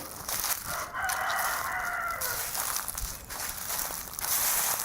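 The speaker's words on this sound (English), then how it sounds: "I like the sound of a rooster" A rooster crows outdoors in a Kentucky yard, a drawn-out call rising over steady wind and ambient noise, moderately near and heard without talk.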